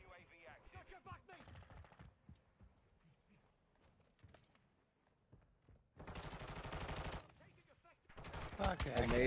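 Video game gunfire on the Shoot House map, rapid automatic bursts and single shots, fairly quiet at first then louder near the end, mixed with lively talk.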